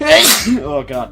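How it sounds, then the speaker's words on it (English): A single loud, close sneeze bursts out sharply, followed at once by a brief spoken reaction. "That was a sneeze and a half"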